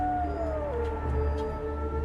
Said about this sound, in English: Oh gosh, that is totally a wolf.